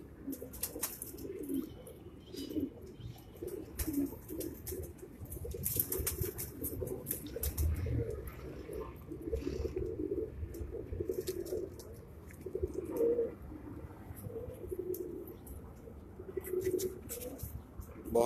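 Teddy breed female pigeons coo in a cage in Karachi, with soft repeated low throaty calls overlapping through a continuous close-range background of cooing and faint rustling.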